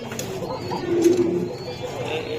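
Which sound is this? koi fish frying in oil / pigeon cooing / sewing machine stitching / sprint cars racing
pigeon cooing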